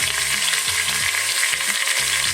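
Pork shoulder steaks brown in an Instant Pot with a steady, close, loud sizzle that never lets up, over a low rhythmic bass tone underneath.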